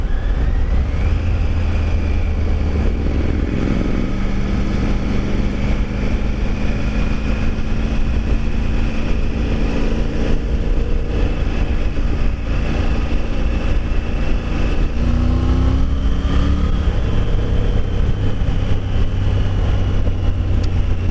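A Triumph Tiger Rally Pro 900 motorcycle rides along with a loud, continuous engine drone, its pitch rising and falling through gear changes and throttle shifts, accompanied by steady wind and road rumble.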